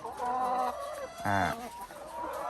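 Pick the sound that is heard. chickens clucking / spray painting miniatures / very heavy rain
chickens clucking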